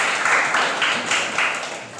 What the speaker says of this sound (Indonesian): Beri tepuk tangan dulu pada Nana.